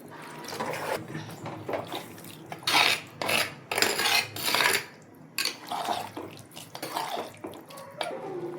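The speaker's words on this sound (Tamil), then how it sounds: "இப்போ கொஞ்சம் தேவையான அளவுக்கு உங்களுக்கு தண்ணி சேர்த்துக்கோங்க." Water splashes and pours into a pot for a village-style dried fish curry in several bursts, with clinks of metal cookware between the pours.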